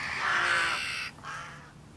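Jackdaws calling over a stubble field, a couple of harsh, close caws with a short gap between them in open countryside.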